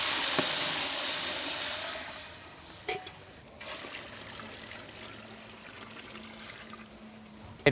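Water poured into rava for kesari, a steady trickling pour that is loudest at the start and then settles into a fainter, continuous dribble with a few small clatters.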